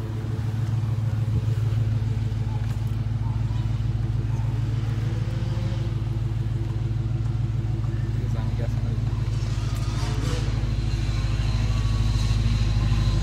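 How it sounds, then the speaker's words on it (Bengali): A brand-new 2021 Dodge Charger with a 6.4-litre V8 runs at a steady, close idle, a deep continuous rumble holding evenly throughout with no pause or break. "গাড়িটা স্টার্ট দিলাম, শব্দ।"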